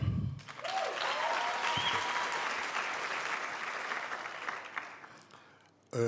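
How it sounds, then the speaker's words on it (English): A large audience at a university engineering graduation ceremony applauds the choir in sustained, dense clapping that gradually fades, followed by a sudden burst of sound at the end. "Another round of applause for the choir."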